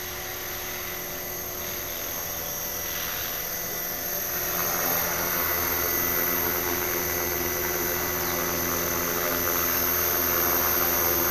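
An HK-450FBL radio-controlled helicopter with a Tarot ZYX flybarless unit and Ino-Lab HGD-202HB cyclic servos flies on a test run, its rotor and motor producing a steady high whine that grows slightly louder partway through.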